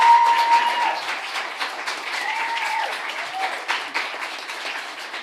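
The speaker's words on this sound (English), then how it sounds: "can we get another round of applause for all of our performers?" Audience applauding performers at the close of a teen gala, scattered claps mixed with cheering and brief voices, fading somewhat over a few seconds.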